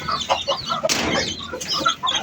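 Chickens and roosters cluck in a close, busy flurry of short calls, with a brief flap or scuffle partway through.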